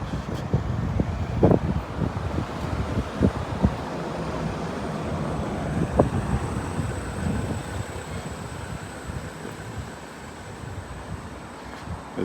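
Gusty wind rushing along Adelaide Street in Brisbane on New Year's Day, a steady broadband roar with traffic rumbling beneath and occasional louder buffets, no talking.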